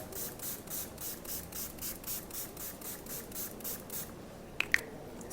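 A dewy makeup setting spray, a 100 ml bottle, gives a rapid series of about a dozen even, hissing pumps in steady rhythm, close and fairly soft, followed by two small clicks near the end.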